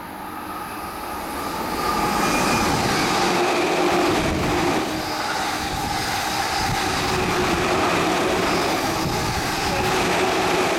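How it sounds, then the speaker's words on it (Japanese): A JR E231 series 1000 train on the Tokaido Line roars through Ninomiya station without stopping, a loud continuous rumble of wheels and rushing air that swells early and holds steady as the cars pass. "電車が通過しました"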